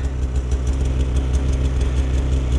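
A snowmobile engine runs near the rider on snowy trails in Norway, a steady low throbbing idle with rapid pulsing, loud and close with no voices.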